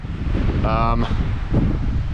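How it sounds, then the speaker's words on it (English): Strong wind buffets the microphone in a steady, roaring rumble on a high mountain summit, Mount Harvard, with a brief murmur of a voice partway through. "It's a pretty bit windy right now."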